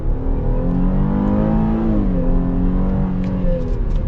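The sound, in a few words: Chevy Traverse V6 engine accelerating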